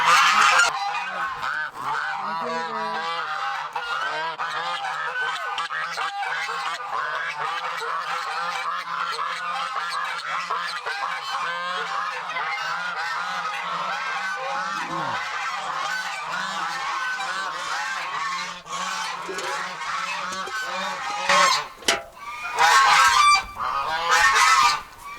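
A flock of geese in a farm pen shared with turkeys and ducks honks continuously and loudly close by, a dense overlapping clamor that swells and breaks into sharper honks near the end.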